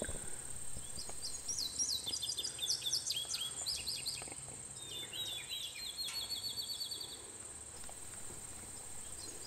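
Several birds chirp and trill in bursts over a steady insect drone in a pasture, an open-air chorus at moderate distance with no talking.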